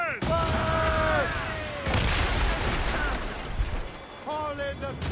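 Ship cannons fire a broadside in Assassin's Creed Rogue, a rolling burst of heavy booms mid-clip, set among shouted crew voices and loud sustained tonal game sounds.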